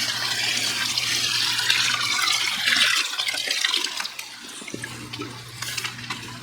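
Water poured into a home fish tank while acclimating a new lemon jake peacock cichlid, a steady close splashing trickle with a low hum underneath that briefly drops out midway.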